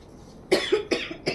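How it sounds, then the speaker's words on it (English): A few short coughs in quick succession, close and fairly loud, with a quiet pause before them. "just a little cough"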